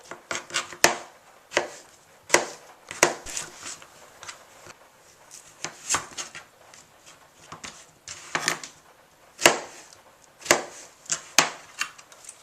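A knife chops vegetables such as yellow squash on a cutting board in quick, uneven bursts of crisp thuds, near and fairly loud, with short pauses between runs and no talking.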